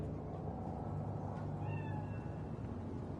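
A cat meows in the Cyberpunk 2077 video game, one short mewing call over a low, quiet ambient hum.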